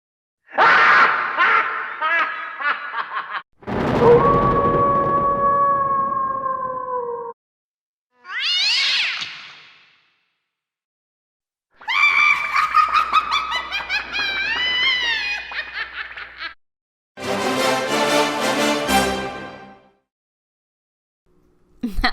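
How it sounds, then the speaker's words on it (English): A series of spooky electronic Halloween alert tones from a Ring doorbell app plays in separate bursts: cat-like meows and yowls, cackling laughter and eerie tones, with short silences between. "they have all kinds of different Halloween sounds"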